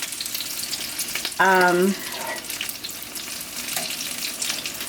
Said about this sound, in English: I'm frying some samosas here, some homemade samosas.